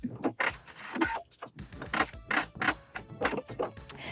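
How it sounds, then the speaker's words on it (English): A sewing machine stitches across the top of fabric for a homemade arm sling, running in short, uneven bursts of quiet mechanical whirring and ticking close by. "Now I'm gonna sew across the top."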